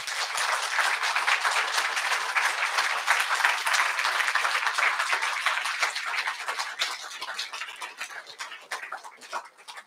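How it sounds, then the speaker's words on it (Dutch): An audience gives warm applause, a dense sustained burst of clapping that thins out and fades toward the end. "Ik wil graag een heel warm applaus."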